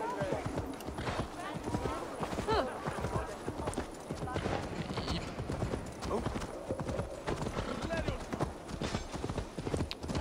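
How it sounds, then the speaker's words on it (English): Horse galloping through a town in the video game Assassin's Creed Valhalla, rapid rhythmic hoofbeats close up and steady throughout, with a brief whinny and someone talking over it. "Pardon me and my horse abruptly running through your town."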